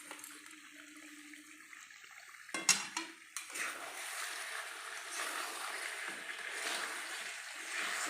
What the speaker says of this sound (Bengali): দিয়ে ভালোভাবে এটা কষিয়ে নেব।